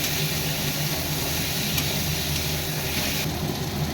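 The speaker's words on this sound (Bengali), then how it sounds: "সাথে আলু আর ডাটাটাকে একটু ভালো করে ভেজে নিতে হবে" Potatoes and vegetable stems frying in a pan, giving a steady, even sizzle with constant hissing texture throughout, with no talking.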